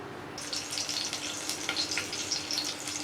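Two green chillies drop into hot peanut oil in a pan and set off a steady, close crackling sizzle that holds evenly to the end.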